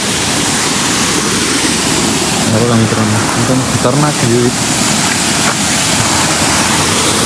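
Pansari waterfall at Bhandardara gives a steady, loud rushing roar of falling water that fills the whole scene, while someone talks excitedly over it partway through.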